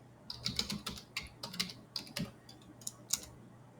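Close, light clicking of a computer keyboard as a command is typed, a quick irregular run of keystrokes in a quiet room.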